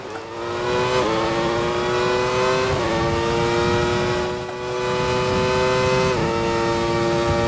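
The engine of a 1994 Benetton B194 Formula 1 car in F1 2020, racing at Austria, screams at high revs, climbing steadily with three quick upshifts spaced a few seconds apart, loud and close throughout.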